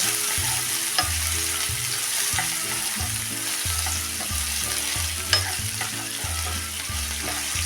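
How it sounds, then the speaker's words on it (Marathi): Soaked dal sautés in oil in a pan, a steady close sizzle broken by rhythmic scraping strokes of a stirring spoon. "एकसारखे तेलात परतून घ्या म्हणजे ही पटकन भिजवलेली असल्यामुळं शिजली जाते"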